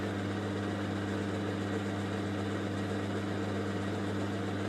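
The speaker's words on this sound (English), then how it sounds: "It's going a very variable speed." A Portass Model S Mk2 metal lathe runs steadily at a variable speed, giving a continuous motor hum with a low, even drone and mechanical whir, fairly close and constant throughout with no talking.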